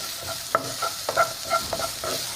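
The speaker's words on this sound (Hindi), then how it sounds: "सभी सब्जियां ऐड करने के बाद इसको सिर्फ हमें 1 मिनट के लिए फ्राई कर लेना है।" Vegetables frying in a pan for chicken soup, a steady sizzle with several sharp stirring scrapes and knocks at close range, no voices.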